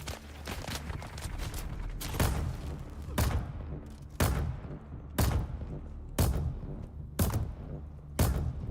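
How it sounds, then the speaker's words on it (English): Shotgun blasts in the Dune: Awakening video game, a regular series of about seven loud, close booms spaced roughly a second apart, each decaying before the next. "Shotgun to the face."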